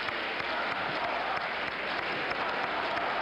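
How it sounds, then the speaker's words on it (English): Convention crowd at the 1976 Democratic Convention, a dense, continuous wash of applause and cheering filling the hall evenly from start to finish. "Abe Beam, the mayor of New York, has come to the platform and is helping to lead the cheering"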